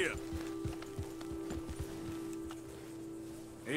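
Horse hooves galloping in Red Dead Redemption 2, a quick run of clip-clop beats close by over a steady hum, with a rider's voice heard over it.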